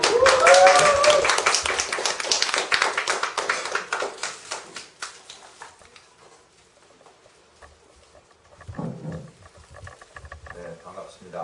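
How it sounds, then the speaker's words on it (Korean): Audience applause at a general meeting, a dense round of clapping that fades away after a few seconds, followed by a quieter stretch where a voice begins speaking. "큰 박수로."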